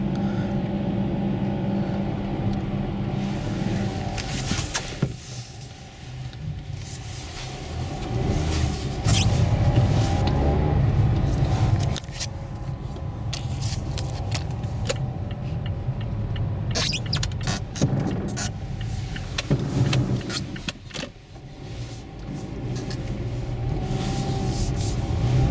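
A Mazda on all-season Vredestein Quatrac Pro tyres pulls away up a steep snowy hill, giving a steady close engine rumble with tyre and snow noise for the whole stretch and no talk.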